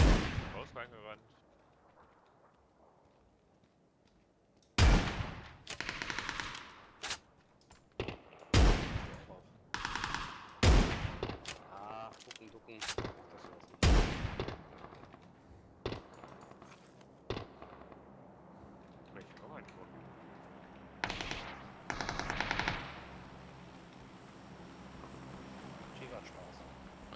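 Gunfire from PUBG: Battlegrounds, a rapid series of sharp shots and short bursts ringing out loudly after a quiet start, then thinning to scattered cracks amid ambient noise.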